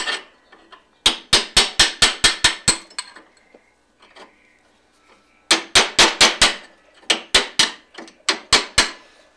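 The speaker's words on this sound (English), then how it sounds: "let me grab a little chisel, hammer. And we're just going to drive this remaining piece out." Sharp metallic hammer blows strike a chisel in quick bursts of about seven to nine hits each, separated by short pauses, loud and close.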